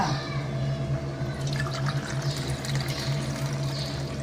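Thick coconut milk pours into a cooking pot of chickpea biryani, a soft continuous liquid trickle with splashy patter building midway, over a steady low hum of the kitchen, no voices.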